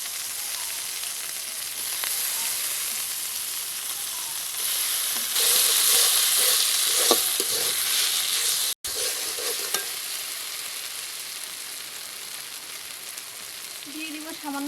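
Chopped tomato hits a hot pan of spices for a vegetarian jackfruit curry, setting off a loud, steady sizzle that swells midway, with brief scraping stirs and a sudden short dropout before the frying resumes.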